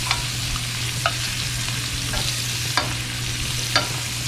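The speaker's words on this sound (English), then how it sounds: "I'm gonna tilt the pan and I'm gonna baste my steaks" Ribeye steaks frying in a tilted pan of hot butter with thyme and garlic, a steady close sizzle broken by four or five sharp spoon scrapes as the butter is basted over the meat.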